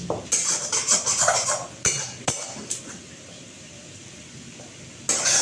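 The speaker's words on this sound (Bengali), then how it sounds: "পটলটাও দিয়ে এর সঙ্গে একসাথে ভালো করে মিশিয়ে দেবো" A metal spoon stirs fried pumpkin and pointed gourd together in a pan, giving a run of quick scraping clinks that then pauses, with a few sharp knocks and a faint sizzle beneath.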